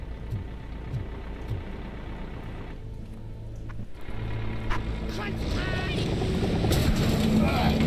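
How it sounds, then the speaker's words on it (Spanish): A heavy truck engine in the video game RoboCop: Rogue City rumbles low and steady, growing louder as the vehicle draws nearer, with wind and game background noise mixed in. "Se oye un camión."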